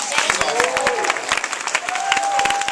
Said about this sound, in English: Y'all give Tanya a round of applause